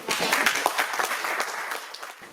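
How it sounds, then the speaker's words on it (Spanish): Audience applause at an institutional award ceremony for a malaria interpretation centre prize in Extremadura, a brief burst of full clapping that swells quickly and then gradually tapers off. "Un aplauso."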